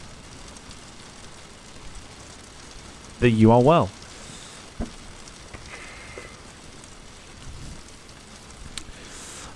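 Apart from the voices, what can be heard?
rain at Heathrow airport in video game Microsoft Flight Simulator 2020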